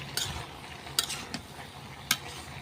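A pot of chepa shutki (fermented dried fish) curry with green chilies and garlic being stirred and sautéed, with a low background sizzle broken by sharp utensil scrapes and clinks against the pan.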